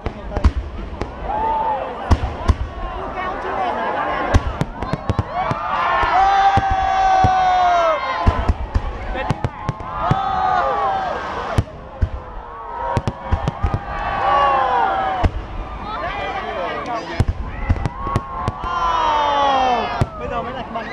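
Fireworks burst repeatedly over a lakeside during a National Day celebration, sharp booms and crackling pops ringing out amid a large crowd's murmur and cheers, with people talking nearby throughout.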